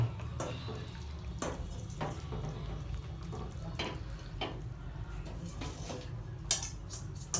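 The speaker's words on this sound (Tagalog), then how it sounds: "Yan po ang pagluluto ni Cha Norman ng carbonara." Pots, pans and utensils clatter through home cooking of carbonara, with scattered clinks and scrapes over a steady low hum of water or frying, fairly close and moderate in level with no talk.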